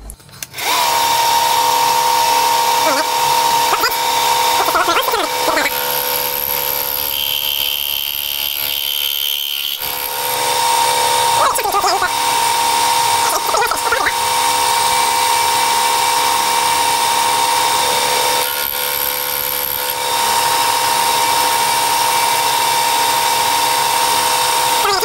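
An end mill on a milling machine cuts metal while machining an arc milling vise, lubricated with cutting oil, giving a loud, close, steady high-pitched whine that runs almost continuously with one brief lull midway.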